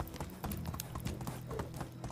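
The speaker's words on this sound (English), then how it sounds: "don't push your horse too hard" Horse hooves galloping in the medieval survival game Medieval Dynasty, a steady rapid clip-clop rhythm running continuously under low ambient game sound.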